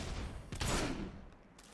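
Gunshots in Fable 2: a single loud shot with a brief reverberant tail, preceded and followed by softer game ambience.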